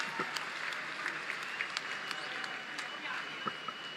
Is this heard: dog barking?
no